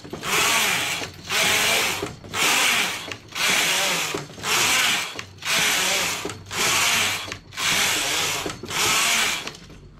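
Knitting machine carriage knitting rows of a cape, sliding back and forth in regular strokes, about eight loud rasping passes with short pauses between them, close by and with no voices.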